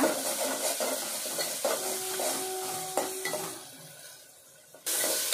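Ginger garlic paste frying in a pan with cooked-down tomato, a steady close sizzle broken by stirring scrapes and light utensil clinks, fading quieter toward the end before a sudden louder burst of hiss.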